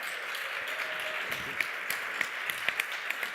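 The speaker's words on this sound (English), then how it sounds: "Please join me in giving them one big round of applause to encourage them on." Audience applause for debaters at a fintech conference debate, a soft steady wash of clapping with a few sharper claps standing out near the end, heard at a moderate distance.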